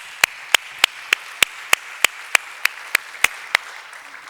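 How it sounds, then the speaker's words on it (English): At a YMCA World Council gathering, a single person claps slowly and evenly, about a dozen crisp, distinct claps spaced roughly a third of a second apart, close by, against a quiet room. "A round of applause for all of you."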